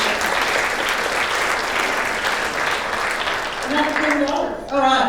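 Enthusiastic round of applause at a Christmas charity luncheon, sustained crowd clapping that fades out near the end as a speaker's voice comes in.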